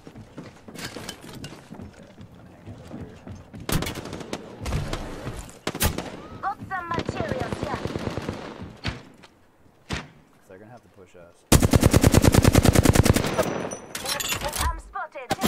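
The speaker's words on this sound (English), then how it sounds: "Joker's shooting at me." Rapid automatic gunfire in the video game Apex Legends comes in several bursts, some long and dense, others short, loud and close, with someone talking at times between the shots.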